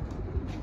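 Domestic pigeons kept on a rooftop loft give a low, soft cooing murmur, close and steady through a brief moment with no voices.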